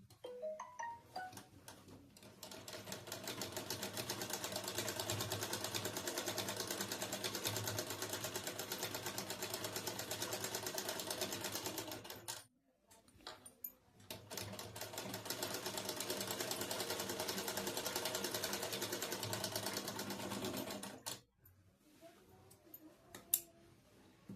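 An electric sewing machine stitches fabric in two long, steady runs of fast, even whirring, broken by a brief pause and ending with a short stop and a few small handling clicks.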